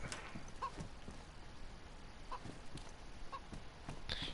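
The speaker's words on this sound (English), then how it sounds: "You cluck away, chicken." A chicken in the PS4 version of the survival game DayZ gives a few faint, widely spaced clucks over a quiet outdoor ambience.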